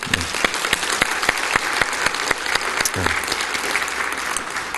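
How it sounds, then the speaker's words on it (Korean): A church congregation in a large room claps steadily, sustained applause with sharp individual claps standing out, moderately loud and continuous. "하나님께 영광의 박수를 올려드리겠습니다"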